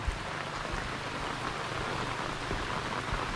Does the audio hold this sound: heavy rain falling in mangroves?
yes